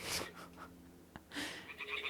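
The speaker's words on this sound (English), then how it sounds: "Ah, the toads are croaking here." Toads croaking in the video game Kingdom Come: Deliverance II, a few low rough croaks near a shrine nest, with brief ambient game sounds around them and no talk.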